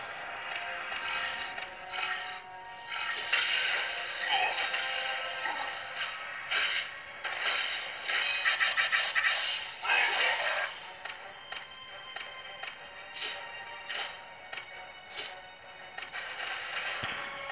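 Action-fantasy mobile game Eternity Warriors 4 playing through the small built-in loudspeakers of a Xiaomi Redmi Note 3 phone, a busy stream of clashing hits, whooshes and effects, thin and treble-heavy, with no talk.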